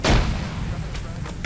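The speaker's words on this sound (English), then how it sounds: "I'm gonna get a nade out. Go ahead. Grenade." A grenade explosion in Arma 3 erupts with one heavy, close, thudding blast at the start. It is followed by rumbling gunfire-like echoes that trail off over a second.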